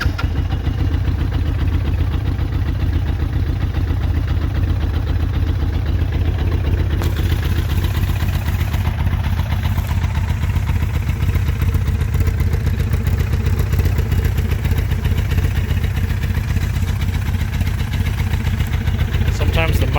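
A 1986 Yamaha FJ1200 motorcycle engine idles with no exhaust baffles, running slightly lean, a loud steady rumble with occasional exhaust pops that continues alone from start to finish.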